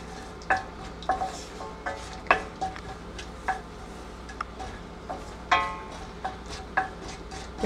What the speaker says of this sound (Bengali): ক্যাশনাটটাকে আমি হালকা একটু ভেজে নিব